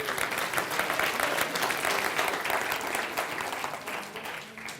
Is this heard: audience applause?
yes